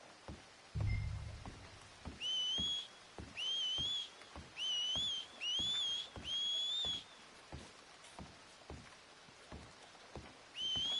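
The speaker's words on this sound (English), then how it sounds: "Make a noise. Whistle or something." Repeated two-note whistles in Red Dead Redemption 2, about six short rising bursts between two and seven seconds and another near the end, clear over quiet outdoor ambience with faint rhythmic ticks.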